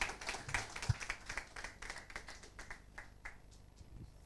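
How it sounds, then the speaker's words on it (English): Audience clapping at a panel event launching an investment challenge, steady hand claps spread across the room, moderately loud and continuing without speech. "Clap for our moderators."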